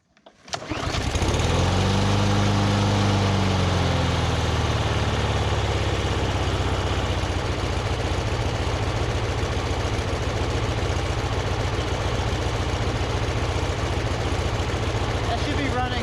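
A small lawnmower-type engine idles steadily and loudly throughout during a repair, its low, even drone sitting close and continuous with speech under it.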